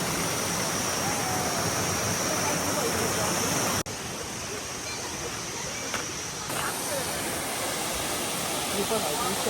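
Water rushes and splashes in a constant broad roar at the Vitthal Kada waterfall close by, dipping slightly in level partway through.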